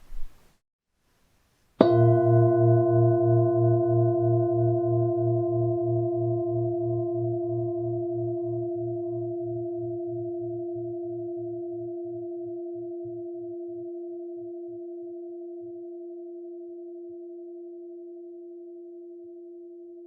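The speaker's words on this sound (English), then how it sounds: "Now let's hear a metal singing bowl." A metal singing bowl is struck once and rings with a steady, pure sustained tone. A pulsing low hum beats under the tone, and the ring fades slowly over many seconds with nothing else heard.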